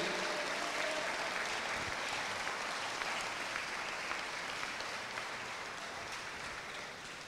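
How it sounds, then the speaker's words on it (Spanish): Church congregation claps during a worship service, a continuous wash of distant applause that holds steady and slowly fades toward the end. "Aplauda su gloria."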